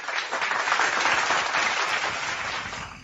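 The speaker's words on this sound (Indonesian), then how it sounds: "Tepuk tangan untuk Al-Quran." Sustained audience applause at an Indonesian debate event, a dense steady wash of many hands clapping throughout, loud and continuous with no speech over it.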